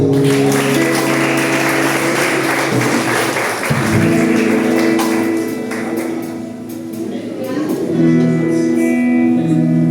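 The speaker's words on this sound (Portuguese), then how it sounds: "as palmas louvam ao Senhor" Applause from a church congregation, sustained for several seconds over a lingering musical tone.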